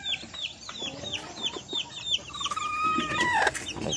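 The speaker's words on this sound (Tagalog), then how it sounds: "yung inahin natin ay Jumbo Cruz Dumpo" Broody hens cluck repeatedly in short, rapid bursts, close by, with a busy flock chattering and a brief squawk near the end.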